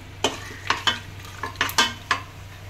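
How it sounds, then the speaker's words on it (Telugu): Whole mace, cinnamon, cardamom and cloves fry in a pan for a vegetable biryani, with a low sizzle under about seven sharp spatula scrapes and clicks spaced irregularly. "పులవా పువ్వు, దాల్చిన చెక్క, పెద్ద యాలచ్చి, లవంగాలు వేసి బాగా కలుపుకుందాం."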